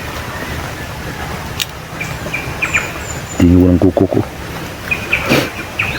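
A wild bird gives a few short, clear calls at moderate distance over steady insect and outdoor background, with someone speaking briefly in the middle.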